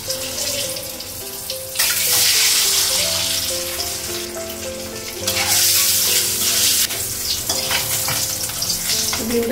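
Eggs sizzling in a pan of oil with turmeric in a home kitchen, a steady loud frying crackle that swells in bursts, with background music under it and no talking.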